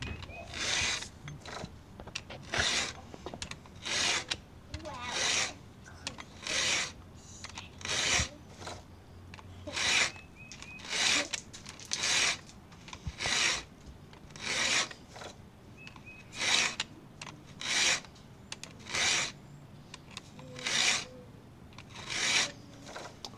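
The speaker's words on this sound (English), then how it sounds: "So we'll get back to filing. Just watch me go through it" A STIHL chainsaw chain being sharpened with a 2-in-1 filing guide, giving a steady series of about twenty rasping file strokes in even rhythm, close and clear, with no talking.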